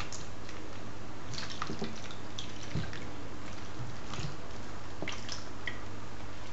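Water gently splashes and drips as a full-body silicone baby doll is rinsed in a bath, with soft scattered drips and trickles over a steady background hiss.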